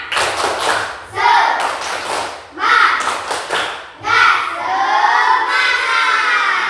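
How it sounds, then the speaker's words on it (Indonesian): Classroom students doing a rhythmic spirit clap, several bursts of clapping in a beat pattern with group shouts between them, fairly close and loud. "kita tepuk semangat dulu. Tepuk semangat."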